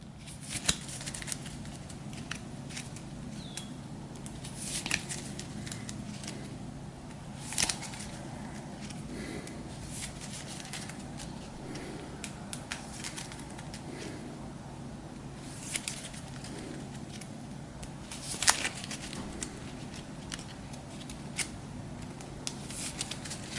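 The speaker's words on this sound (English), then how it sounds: "Neville will shuffle up the Dark Arts" A deck of cards for the Harry Potter Hogwarts Battle board game is shuffled by hand, giving scattered soft riffles and sharp snaps and taps spread across a long, quiet stretch at close range.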